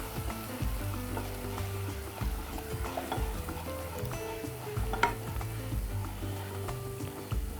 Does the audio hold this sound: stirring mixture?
yes